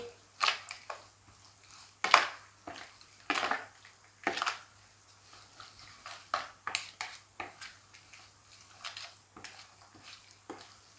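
Spicy instant noodle salad with minced pork, blanched cabbage and carrot being tossed in a bowl: repeated sharp clinks and scrapes of utensils against the bowl, irregular and close, with soft wet mixing between the knocks.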